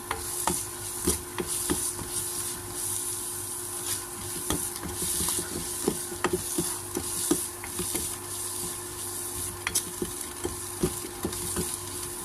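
Turmeric and ground spices frying in a pan while a spoon stirs them, giving irregular scraping taps and clicks over a soft, steady sizzle.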